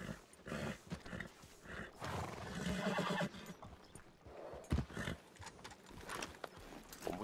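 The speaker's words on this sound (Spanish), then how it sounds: "Me va a pegar el caballo" Horse in the video game Red Dead Redemption (RedM) snorting and whinnying with hoof clops, a close, fairly loud burst of animal sounds over faint game ambience.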